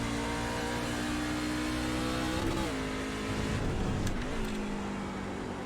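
A Truck Series racing truck in iRacing at Sonoma hums along on gentle throttle, its engine a constant close drone with slight pitch wobbles as the driver feathers the pedal, no voices over it.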